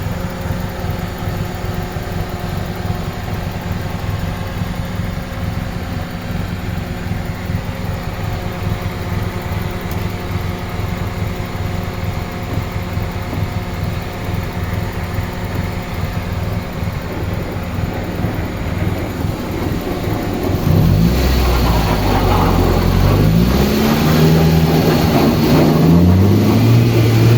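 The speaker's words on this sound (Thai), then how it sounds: "มาฟังเสียงกันนะครับ เสียงห้องเครื่องนะครับลูกค้าลองฟังเสียงเลยนะ" A 1997 Toyota Corona with a 4A 1600cc engine and manual gearbox idles in the engine bay with a smooth, steady, even hum; near the end a passing aircraft adds a louder broadband roar over it.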